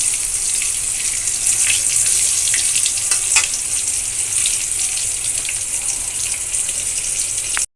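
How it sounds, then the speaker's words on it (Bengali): Pieces of hilsa fish fry in hot oil with a continuous close sizzle and scattered crackling pops, no voices. "তো মাছটা আগে ভেজে নিব।"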